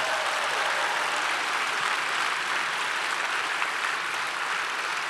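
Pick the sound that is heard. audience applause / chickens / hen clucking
audience applause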